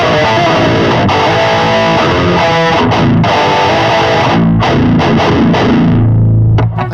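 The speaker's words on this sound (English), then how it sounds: "So let's hear it with the grind back on." Electric guitar driven through a Boss Metal Zone pedal with a Fortin Grind engaged churns out a loud, thick, heavily distorted riff that runs continuously for several seconds, with brief choppy breaks before a final sustained low chord rings out.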